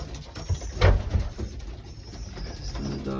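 Pigeons of the Alex Beach breed coo softly in a loft, a couple of low murmuring calls near the middle with faint shuffling and background noise around them.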